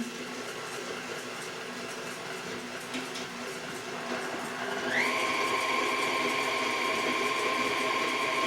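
An electric whisk on a slow setting blends gluten-free banana nut bread batter. Soft clatter comes first, then the motor's whine starts partway through and holds steady to the end.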